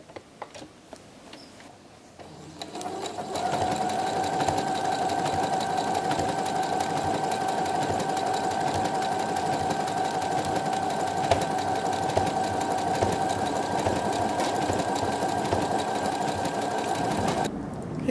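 A sewing machine runs a continuous straight stitch securing appliqué threads, a steady close whirring hum with fine ticking that starts after a couple of seconds of quiet room noise and runs unbroken to the end.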